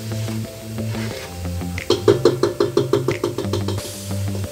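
Spice masala sizzles in a pan for beef nihari while a spoon stirs it in a quick run of rhythmic scraping strokes over a low hum, with no voices.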